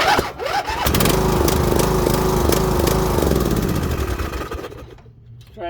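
A small engine is pull-started with the choke on, rattling and catching into a loud running roar for a few seconds before sputtering out and dying.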